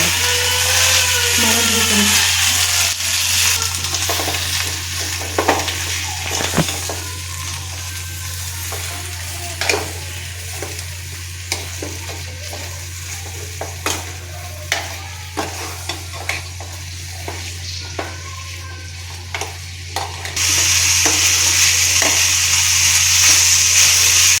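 Garlic, coconut, ginger and mint fry in a pan, a constant loud sizzle with a spoon scraping and stirring through it in uneven strokes, close up and without talk.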